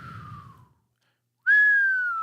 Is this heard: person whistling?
yes